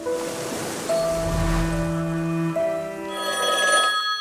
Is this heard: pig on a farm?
no